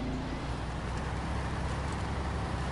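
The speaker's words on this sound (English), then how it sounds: "I like the sound of this truck." A GMC Brigadier truck engine hauling long logs in Maine, a steady low rumbling drone that holds unbroken and close throughout, with no talk over it.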